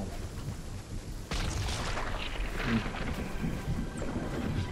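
Rumbling thunder from an approaching storm in a PS5 squad battle game, a broad low roar swelling suddenly about a third of the way in and rolling on steadily to the end, with no speech over it.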